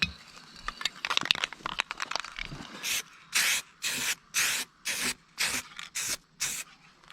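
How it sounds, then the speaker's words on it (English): Clear coat from a spray can goes onto a 2011 WRX downpipe, first some rattling and handling noise, then a series of short close hissing bursts in a steady on-off rhythm, with no voices. "Get you some clear coat."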